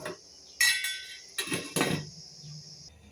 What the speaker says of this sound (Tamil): வச்சு மூடிட்டேன் மூடி லாக் பண்ணிடுவோம்